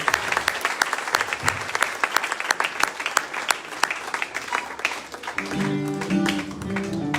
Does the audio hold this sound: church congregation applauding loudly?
yes